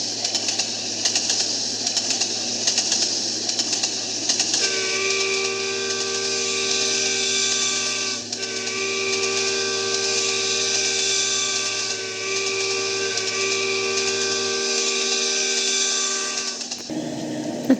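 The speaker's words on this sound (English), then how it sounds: "I thought I heard a train whistle." At night on a railway line, a sustained multi-tone train whistle sounds steadily for about twelve seconds over a constant hiss, then cuts off.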